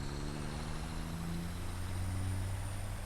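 A video game truck engine drones steadily at low pitch, and its tone shifts partway through as a clutch gear change comes in. No voices.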